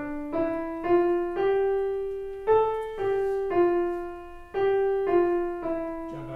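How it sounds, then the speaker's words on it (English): A simple beginner-level piece played on piano, a slow line of clear single notes struck one after another with a steady pulse and ringing sustain, close and alone, with no talk. "So it would sound like this if I were to play it on the piano."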